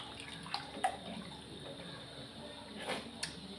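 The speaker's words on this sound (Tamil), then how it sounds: "கரைச்சி வச்ச புளி ஊற்றிக்கிடலாமா?" Dissolved tamarind water is poured into a simmering Chettinad fish curry in a home kitchen, a faint, soft liquid splash and trickle with a couple of small clinks.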